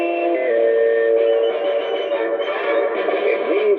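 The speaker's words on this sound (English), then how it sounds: "Our sports signature sounds like this." CBS Radio sports signature jingle, a short broadcast musical sting with sustained brassy tones shifting in pitch and a busier texture toward the end, loud and without talk.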